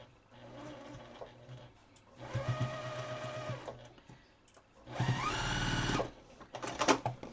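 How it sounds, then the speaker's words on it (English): A sewing machine stitches across the pleats of a homemade N95 mask in three separate whirring bursts, the last one loudest, followed by a few light mechanical ticks. "hold it down, and then just stitch over those pleats"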